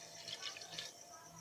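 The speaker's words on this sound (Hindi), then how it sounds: "ये सेकंड गिलास पानी" Water splashes briefly as a glass is emptied into a chicken shami kabab mixture, a short, close pour over a low steady hum.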